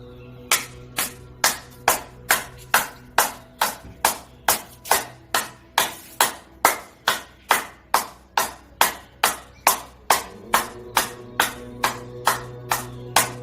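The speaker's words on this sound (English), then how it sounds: "clapping." Hands clap in a steady, even rhythm, roughly two dozen sharp, close claps in a row over a low background hum, with no talking.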